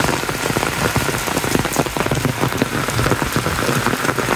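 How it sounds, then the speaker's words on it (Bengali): Heavy rain pours down on a village, a dense, steady patter and splash of drops on surfaces that stays loud and unbroken throughout, with no voices. "বৃষ্টির এই থমথম শব্দে চারিদিক মুখরিত"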